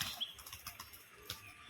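A newly bought tumbler pigeon beats its wings while tumbling in flight, a faint run of short, soft flapping bursts spaced irregularly, heard from a distance with no talking.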